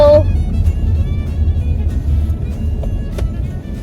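A car pulls away on a damp morning after overnight rain, its low engine rumble steady and close throughout, with a brief voice at the start.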